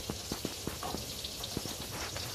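Steady rain patters nearby during a thunderstorm, with scattered distinct drops tapping irregularly on a surface over a soft hiss.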